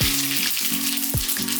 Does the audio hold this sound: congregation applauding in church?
no